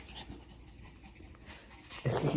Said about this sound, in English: Oh my God, I just got too many puppies right now.